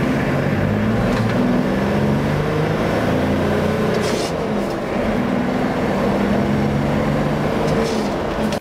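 A Nissan Patrol GR Y61 with a 2.8 turbodiesel inline engine runs steadily, a low, continuous droning growl heard close up for about nine seconds.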